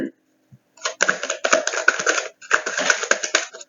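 Rapid papery shuffling of a tarot deck in two bursts, close and crisp, with a brief pause between them.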